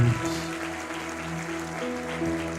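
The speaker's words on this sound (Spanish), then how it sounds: "dele un aplauso fuerte a Cristo" A church congregation applauds during a sermon, a continuous moderate wash of clapping heard at a distance, mixed with a sustained tonal hum from instruments or sound equipment.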